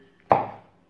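A single knife cut through raw meat along the white lines of fat and sinew, one sharp near stroke that fades out over about half a second in an otherwise quiet room.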